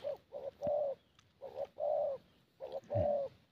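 A spotted dove coos close by in three clear, evenly spaced phrases, each a short note followed by a longer, mellow hoot, alone with no talk.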